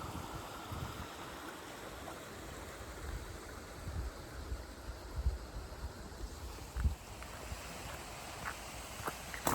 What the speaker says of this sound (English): that's that water from the canal across that little weir and into the Glasson Branch to keep it topped up